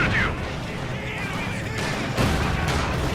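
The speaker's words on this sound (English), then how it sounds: "Mortar rounds going down as well." Mortar rounds fire and land amid a World War II battle in the strategy game Company of Heroes 2, a dense, continuous roar of distant blasts and gunfire with a sharper burst about two seconds in.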